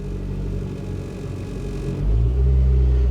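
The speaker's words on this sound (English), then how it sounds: "Sometimes when it's in gear and you give it a little rev, it gives it just what it needs to pop back into gear there" Lincoln MKX engine, in gear at an auto auction lot, idling with a low rumble and then revving up louder in the last second, close by with no talk.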